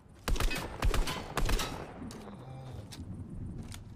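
Several sharp gunshots in the Fortnite video game crack close together in the first second or so, aimed at the player, followed by quieter in-game movement and ambient sounds.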